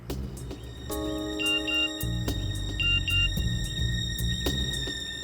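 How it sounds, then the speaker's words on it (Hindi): An electronic ringtone plays a beeping, tonal melody with sustained notes, accompanied by dramatic background music and low rumbling. "फोन बजा।"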